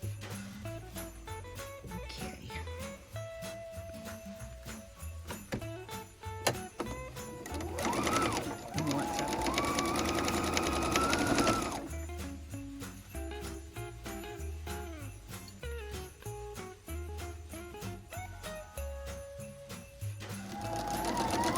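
A sewing machine stitches a quilted Christmas stocking in bursts of rapid, even needle chatter, with pauses between runs and a longer sustained stretch in the middle, close and clear.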